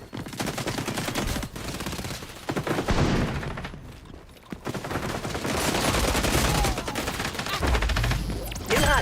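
Sustained automatic gunfire fills a firefight in the shooter XDefiant, with dense overlapping bursts that are loud and continuous, dip briefly midway, then keep going.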